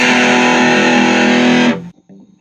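Fender Sidekick 15 Reverb guitar amp, a Taiwan-made unit, roaring with a loud, sustained distorted crunch for nearly two seconds before cutting off into a faint, low rumble.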